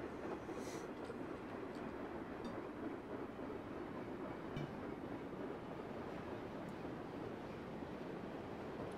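A long BNSF freight train rolls past endlessly on Marias Pass in Train Simulator 2016, a steady quiet rumble with faint metallic ticks and scrapes, continuous throughout without talk.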